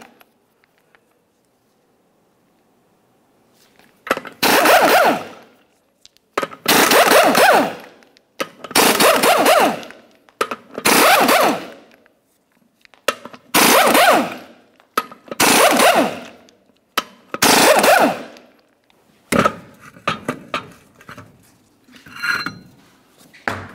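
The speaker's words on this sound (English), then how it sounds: "we'll continue on to removing all 8 of our 24 millimeter lug nuts and then the wheel" An impact wrench spins eight 24 mm lug nuts off the rear wheel of a 1994-2002 Ram 2500, firing a series of loud, close bursts of rapid hammering, each about a second long, with short quiet gaps between them.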